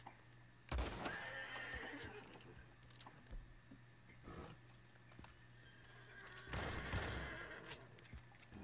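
Ardennes draft horse in Red Dead Redemption 2 neighing wildly, with two loud whinny bursts near the start and end and a shorter one between, over steady game ambience.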